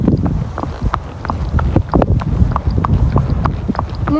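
A horse's hooves clip-clop steadily during an outdoor ride, close to the microphone, with wind buffeting throughout.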